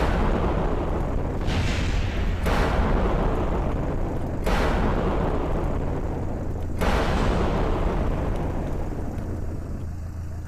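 Missiles fire and explode in the Kerbal Space Program video game, with a dense, loud, rumbling roar broken by several sharp blasts a few seconds apart and no voices.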